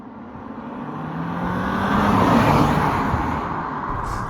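A 2025 Honda Civic Hybrid with a 2-litre normally aspirated engine pulls away, its smooth engine and road noise swelling steadily to a peak before easing off slightly, heard alone without talk.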